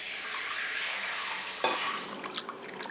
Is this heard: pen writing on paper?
no